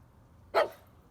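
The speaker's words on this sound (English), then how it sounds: "Where are you barking at?" A single short dog bark, fairly close against a quiet background.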